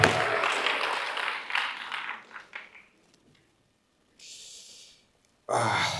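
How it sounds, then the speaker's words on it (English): Applause from the audience at a university debate on agri-innovation and youth employment, a burst of clapping that fades out over a few seconds, then a brief hiss and a fresh loud swell at the end. "Round of applause kindly."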